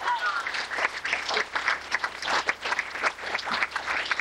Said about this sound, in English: So I think you deserve at least one more round of applause.